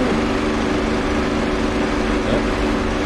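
A plane engine at full throttle in Digital Combat Simulator World, a steady, loud droning roar that holds without letup throughout.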